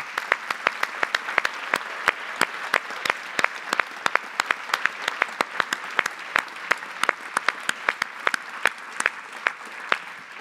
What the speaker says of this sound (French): Je crois qu'on peut l'applaudir très chaleureusement